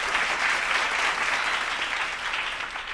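Applause from a church congregation during a Sunday Tamil service, steady dense clapping that holds at an even loudness for the whole stretch, with no voices rising above it.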